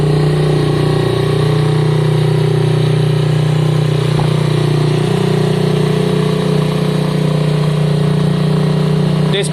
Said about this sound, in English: I'm going to fire it up, make sure it starts, idle it, and give it a quick spin up and down the road.